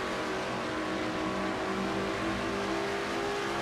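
A stock car engine in a racing video game at Watkins Glen roars loudly and steadily as it pulls hard through the gears into fourth, a dense continuous drone with no pauses.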